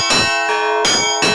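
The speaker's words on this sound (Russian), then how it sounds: "Наша корреспондент Елена Цветкова лично ударила в благовест" Church bells struck in the belfry of the Annunciation Cathedral in Voronezh, four loud, ringing strokes at a steady pace, each with a long shimmering hum that carries under the next.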